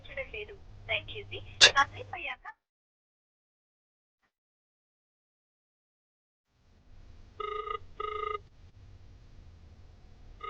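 After a number is dialed, two short ringback tones sound over the line following a long silence; speech is heard earlier and the rings are fairly faint.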